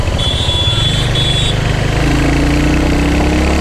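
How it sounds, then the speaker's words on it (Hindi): Royal Enfield Hunter 350 motorcycle engine runs with a steady, loud exhaust note close by, its throbbing pulse rising slightly in pitch partway through as revs build, with no talking. "बहुत ही ज़्यादा बेसिक सा एग्जॉस्ट नोट आ रहा है। और हाई रेप में बहुत ही ज्यादा पावर फील हो रहा है"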